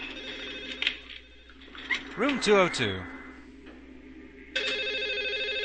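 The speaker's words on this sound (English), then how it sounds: "at least now, the phone has stopped ringing" A telephone ringing inside the video game Silent Hill 4, heard as repeated electronic tones at the start and again near the end, with someone speaking over the middle.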